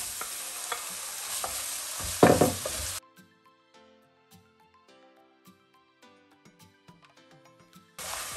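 Chilli beef stir-fries in a pan over medium-low heat, a loud sizzle and a burst of stirring for about three seconds, then near silence with faint scattered taps and clinks before the sizzle returns at the very end.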